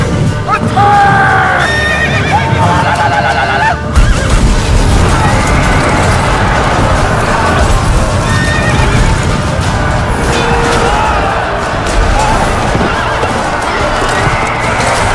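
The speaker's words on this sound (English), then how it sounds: "The clash of horses and men is violent" In a Lord of the Rings video game battle, Gondor cavalry horses whinny and neigh loudly over heavy galloping hooves, crashing impacts and a chaotic battle roar, dense and continuous throughout.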